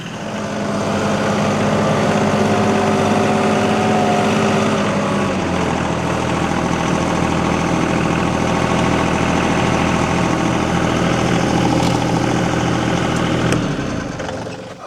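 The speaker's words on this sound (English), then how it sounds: "Should we drive that tractor closer to the truck so we can work on it?" A tractor engine runs steadily with a low, loud rumble, its pitch shifting slightly partway through as it works, then cuts off near the end.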